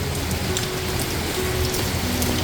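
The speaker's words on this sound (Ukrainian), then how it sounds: "У нас почався сезон дощів. Цілий день ляпотить." Rainy-season rain falls steadily on a Canadian island, a dense even patter of drops on surfaces with no talking and no change in intensity.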